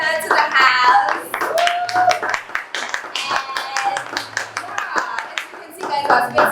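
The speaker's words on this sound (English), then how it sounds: "I would like us to give her a round of applause and welcome her to the house." In an intimate indoor space, an audience welcoming a speaker claps in sharp, uneven bursts, with voices and cheers mixed through the clapping.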